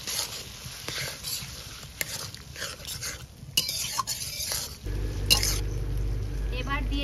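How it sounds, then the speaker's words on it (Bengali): Soaked Gobindobhog rice sautéed and stirred in a pan for a vegetarian chal potol dish: close scraping and clinking strokes over a light sizzle, joined by a steady low hum in the last couple of seconds. "এবার একটু ভালো করে কষে নেব।"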